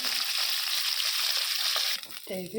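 Nigella seeds hitting hot oil while tempering for khoira fish, a dense bright crackling sizzle up close that drops off abruptly near the end as a brief voice-like tone enters.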